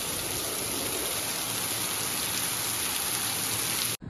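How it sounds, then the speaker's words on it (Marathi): Heavy monsoon rain pours steadily onto a tiled house roof, a dense, constant hiss of drops that stays loud and even throughout before cutting off abruptly at the end. "मस्त जोरात आलाय पाऊस"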